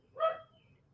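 A single short dog bark or yip, fairly close and moderately loud, rising briefly over a quiet indoor background.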